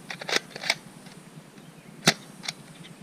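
X-Shot Ninja Quick Scope toy blaster jamming on an AccuStrike dart, heard as a few sharp plastic clicks and clacks spaced irregularly, fairly close and quiet with no dart firing.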